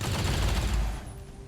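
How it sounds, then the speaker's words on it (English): Point-blank rapid fire from a video game (XCOM Long War): a dense, loud burst of overlapping gunshots in the first second, then fading into a low tail. "Now I'm gonna try a point blank rapid fire at 92."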